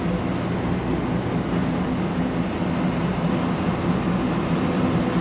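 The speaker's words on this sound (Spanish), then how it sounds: "Y si seguimos acelerando, pues nos sigue pidiendo más cambios." A Kenworth T680 truck with an 18-speed automatic transmission accelerates, heard from inside the cab as a dense, steady low rumble with a faint engine drone. No one speaks.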